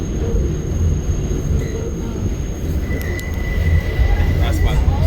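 An R68 subway train on a Manhattan-bound D line rounds a sharp turn. Its wheels squeal with thin, high shrieks over a loud, rumbling ride noise, and a voice speaks over it.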